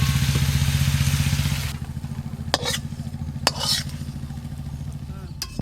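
Slices of pointed gourd and ridge gourd fry in a pan with a loud, close sizzle that cuts off after a couple of seconds, leaving a steady low hum broken by a few sharp clicks and scrapes.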